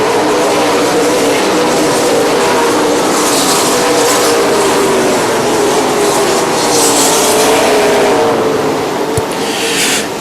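Super late model race cars roaring around an oval track under green flag, a loud continuous engine drone with rising and falling passes as the pack sweeps by, no voices.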